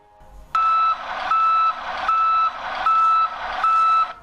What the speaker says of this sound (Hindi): इसके साथ साथ बीप की आवाज भी सुनाई देती है।